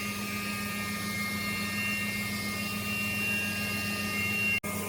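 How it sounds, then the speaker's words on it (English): A CNC mill face-milling a manifold plate flat in a job shop gives a steady, loud machine drone with a sustained tonal whine that runs unbroken, cut by a short sharp click just before the end. "So here I am just milling the area flat where the part's going to end up sitting."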